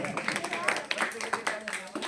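A class of students applauds for a classmate at a coaching centre awards gathering, a brief burst of lively mixed clapping from a group, with talk over it.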